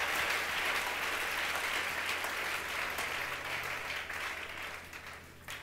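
A church congregation applauding the word of God during a sermon on Ezekiel, a steady, full wash of clapping from many hands that holds for several seconds and slowly tapers off at the end, with no voices.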